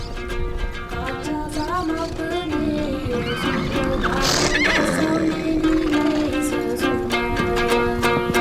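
Horses neigh and whinny repeatedly amid a busy Mongolian herd as untamed colts are rounded up, with hooves shuffling and some voices in the background, fairly close.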